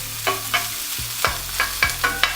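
Onions and peppers for a cheesesteak are stirred in an oiled pan, with half a dozen sharp scraping strokes falling about every third of a second over a steady low sizzle, near and moderately loud, with no voices.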